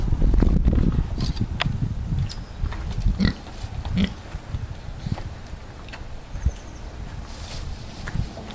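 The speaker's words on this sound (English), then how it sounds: "Mia, is that a stinky pig?" Low pig grunts and snuffles come in short bursts, close by, with scuffling and shuffling sounds around them.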